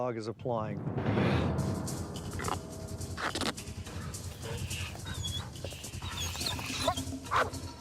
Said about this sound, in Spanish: Se atrae a los perros para que muerdan el dispositivo y así medir la fuerza de la mordida